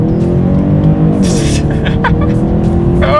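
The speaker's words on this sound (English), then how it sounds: "So come to a stop and let's hit the gas." A 2020 BMW 750i xDrive pulls hard from a standstill, its engine note rising steadily under full throttle with a brief tire chirp, heard from inside the cabin; a voice exclaims briefly toward the end.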